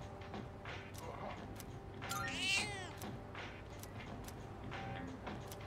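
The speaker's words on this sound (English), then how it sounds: "Its purring seems more energetic than it did last time." A cat in the Persona 3 Reload video game, heard as brief meows over a low continuous hum and game background sounds, fairly close and moderately loud.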